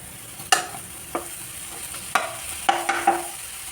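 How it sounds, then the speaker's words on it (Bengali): Vegetables frying in a small amount of oil for a mixed vegetable dish with sidol and greens stalks, a quiet steady sizzle broken by several sharp clinks and scrapes of a spoon against the pan. "ভালোভাবে ভাজতে হবে।"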